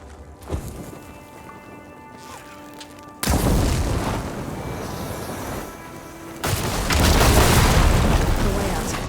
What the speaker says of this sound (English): Hitting those blaze barrels with fire ammo should do the trick.